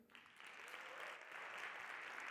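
Audience applause in a room, a continuous even wash of clapping that swells slightly and holds, heard faintly and alone.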